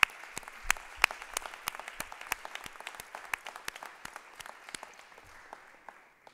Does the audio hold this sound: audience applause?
yes